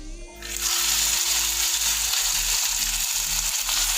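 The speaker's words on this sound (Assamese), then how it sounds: "কেৰাহীত মই আলু ভাজা তেলখিনি আছে, তাতে মই লাহে লাহে গোটেইখিনি ব্ৰইলাৰ" Loud, continuous sizzling of chicken frying in hot oil in a wok, with low rhythmic thumps from stirring beneath the hiss.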